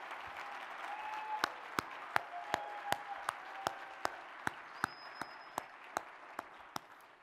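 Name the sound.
audience applause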